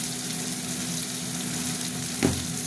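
Onions frying in hot oil in a home kitchen, a steady close sizzle hissing on without pause, with a short louder crackle near the end.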